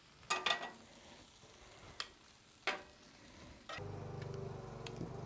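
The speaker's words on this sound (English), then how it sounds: "A little bit of garlic butter. Just throw that on the grill, nice." Garlic butter hitting a hot griddle, starting with a few sharp metallic taps and clinks, then breaking into a steady, close sizzle that holds to the end.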